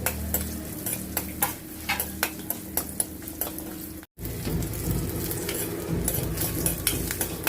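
Garlic frying with cumin seeds in oil in a kadhai, steady sizzling under a run of rhythmic scraping and clinking spoon strokes, briefly cut to silence before the sizzle resumes louder.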